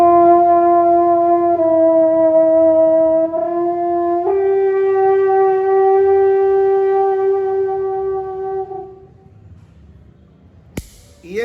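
A Wagner tuba, the brass instrument devised by Richard Wagner, plays a few sustained, mellow notes that step upward, each tone held for a couple of seconds before fading near the end, followed by a brief click.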